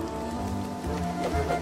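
Steady rain patters down in a Disney Ratatouille video game level, a constant wash of drops under tonal game music, moderately loud with no pauses.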